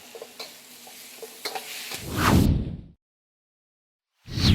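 Beef and vegetables stir-frying in a wok, a close, rising hiss and clatter of food being tossed that swells, cuts off abruptly, then bursts back in.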